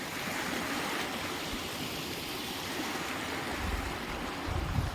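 Rainwater rushes steadily over a flooded road after heavy monsoon rain, a continuous broadband wash that swells slightly toward the end, with no voices.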